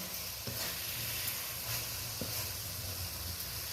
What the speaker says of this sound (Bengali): আমি হালকাভাবে নেড়ে নিচ্ছি যাতে ভেতর থেকে কোনোভাবে পুরগুলো না বেরিয়ে যায়